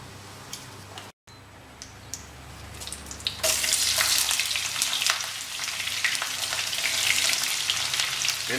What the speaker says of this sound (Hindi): इन प्याज को हम